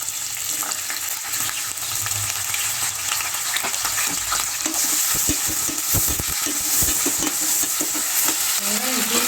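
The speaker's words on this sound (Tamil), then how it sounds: "இது சூடானதுக்கப்புறம் கட் பண்ணி வச்சுருந்த வெங்காயத்தை போடுங்க." Chopped onions fry in hot oil for a vegetable biryani, a loud, dense sizzle with frequent stirring scrapes and clatter growing busier partway through.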